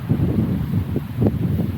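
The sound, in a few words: wind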